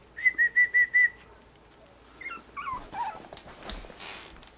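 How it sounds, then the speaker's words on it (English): Puppies whimper and squeal, opening with a run of five evenly spaced high whines, then trailing off into fainter, scattered yelps and whimpers close by. "Puppies."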